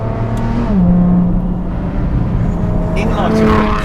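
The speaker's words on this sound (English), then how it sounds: "Gonna give it the full beans in second gear. That is just a magnificent noise." A 2018 Kahn Vengeance pulls hard in second gear, its engine note climbing loud and close in a sustained rising roar with a brief shift-like dip early on.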